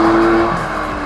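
A 4.0-litre RS car engine, one of only 600 built, roars loudly and steadily up close in a short burst that eases off slightly at the end.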